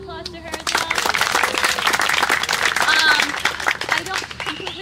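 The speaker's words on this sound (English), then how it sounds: "So big round of applause to her as well." A group at a summer volleyball tournament claps and cheers, a busy wash of applause mixed with voices and a few whoops, fairly close and loud throughout.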